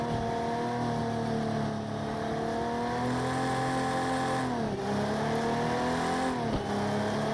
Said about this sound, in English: Oh, big backfire.